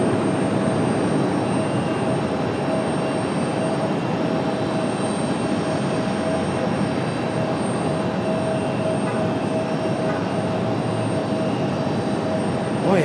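A Delta Connection CRJ regional jet arriving at Raleigh-Durham International, a steady broadband jet roar that holds loud and even for the whole stretch, with a faint swell near the end and no talk over it.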